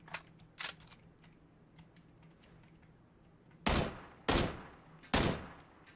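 Gunfire from the video game PUBG (Battlegrounds): two faint early shots, then three loud, sharp bursts spaced about half a second apart near the end.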